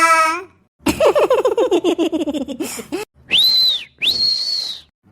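A child giggles in a rapid burst of laughter, then two shrill, sustained whistle blasts ring out close by.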